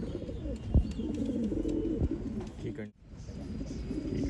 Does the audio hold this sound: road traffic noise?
no